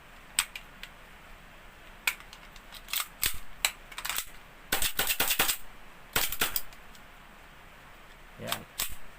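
An SRC HiCapa airsoft gas pistol fitted with an SRC magazine fires a series of sharp, close snapping shots, some single and some in quick clusters, with quiet gaps between them.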